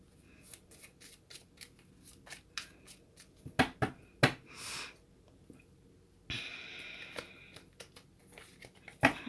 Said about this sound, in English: I feel like I need one more shuffle.